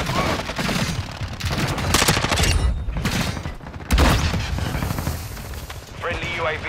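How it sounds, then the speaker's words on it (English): Rapid bursts of gunfire from a shooter video game on the Shipment map, loud and dense, with sharp broadband blasts mixed in and talk over the shooting. "They're shooting at me."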